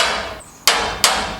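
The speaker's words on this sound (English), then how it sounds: "Good job we've got a decent hammer." A heavy hammer strikes metal spiral stair parts twice about a third of a second apart, each blow a sharp close clang that rings on, over a steady background hum.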